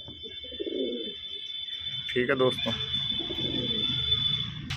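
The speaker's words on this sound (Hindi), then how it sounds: "दोस्तों एक कबूतरी दी है भाई ये सफ़ेद आँख की, सफ़ेद कबूतरी है बिल्कुल बेदाग चिट्टी" Pigeons coo softly nearby in short throaty bursts, mixed with a few chirps, while someone talks over them and a steady high electronic whine runs throughout.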